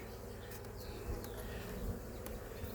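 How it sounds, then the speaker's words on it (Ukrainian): Honey bees from a Poltava-line queen's colony hum steadily and calmly on a hive frame, a close, even buzz with no voices. "Бджолки, дивіться, спокійно сидять на рамці."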